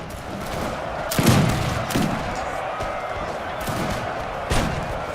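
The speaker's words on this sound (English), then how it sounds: "Prussia's going to take a little bit of hits from their own artillery and their own fire here." Battlefield gunfire from the Napoleonic strategy game Napoleon Total War, with musket volleys and artillery impacts sounding as sharp thuds and bursts over a steady din of battle noise and crowd-like shouting.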